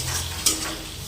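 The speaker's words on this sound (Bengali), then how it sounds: "এবার ভালো করে টমেটোর সাথে খেজুর আর কিশমিশটা মিশিয়ে নেব।" A spoon stirs tomatoes with dates and raisins for chutney in a pan, giving a short, close scraping sizzle with one brief sharp clink partway through.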